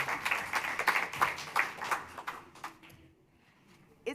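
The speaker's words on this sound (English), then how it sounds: "Let's give a round of applause to our new board members." Applause for new board members at a school board meeting, a burst of crowd clapping fading out over a few seconds into near quiet.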